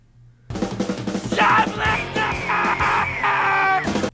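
A man screams in a 1995 film scene, a loud, sustained strained yell that starts abruptly and holds for several seconds over the scene's background sound.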